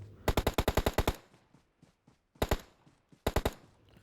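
Automatic gunfire from a PUBG match on the Livik map, knocking down an enemy: a rapid close burst of about nine shots, then two shorter three-to-four-shot bursts after pauses, loud and with no talking.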